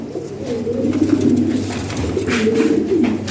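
Pigeons, including a lavender-colored bird and two hens, coo in steady overlapping low warbles, close and fairly loud, with no talking during the sound.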